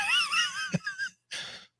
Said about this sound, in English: My dog is snoring.